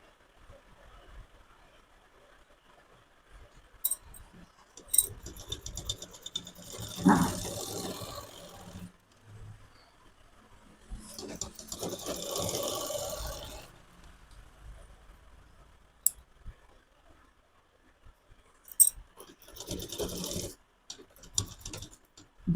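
A sewing machine stitching cloth for a langot, with three separate bursts of rapid mechanical ticking and whirring set apart by quiet pauses while the cloth is turned.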